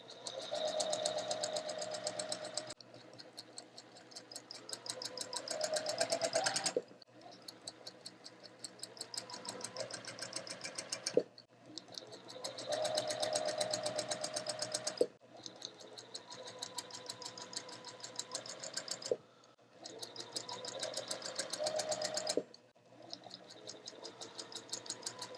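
A sewing machine stitches quilt block pieces in several bursts of rapid, buzzing needle chatter, each lasting a few seconds and split by short pauses, close and fairly quiet.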